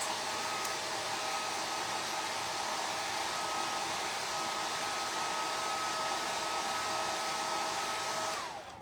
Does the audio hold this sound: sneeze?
no